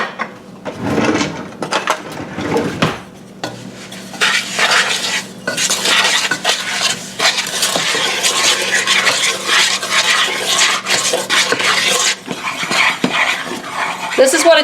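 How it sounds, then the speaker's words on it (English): A spoon scrapes and knocks around a pot while stirring granulated sugar, milk and cocoa powder together, a busy, close run of rhythmic swishes and clinks that goes on for several seconds. "Let's stir those together."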